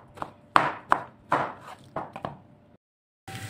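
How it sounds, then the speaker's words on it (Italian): A knife coarsely chops the soft pulp of baked eggplant on a board: about seven uneven, close thunks, then a brief silence and a short burst of kitchen noise. "A questo punto tritate grossolanamente la polpa delle melanzane."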